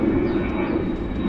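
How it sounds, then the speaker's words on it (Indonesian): Steady broadband roar of an airplane flying near an airport, a continuous loud rumble with no gaps and no talk over it. "nah ini suara pesawat karena dekat dari airport ini"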